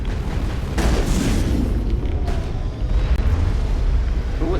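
A heavy boom as a shot explosive detonates in Mass Effect, followed by a sustained rumbling roar that stays loud throughout, with no speech on top.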